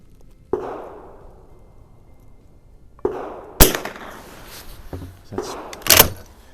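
Several sharp shots from an 1896 Schmidt Rubin .22 short biathlon rifle firing Aguila ammunition at a range, spaced irregularly, the later reports louder and closer, each with a short decaying tail.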